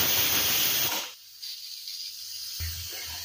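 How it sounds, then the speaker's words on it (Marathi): Pressure cooker whistle releases steam on a gas stove while sevai upma cooks, a loud sharp hiss lasting about a second, then fading to a quieter steady hiss with a low thump, and no voices. "1 शिट्टी झाली की आपण गॅस बंद करून घेऊया"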